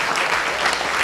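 An audience at a student induction ceremony claps steadily and densely throughout this short burst of applause, close and loud, with no voices over it.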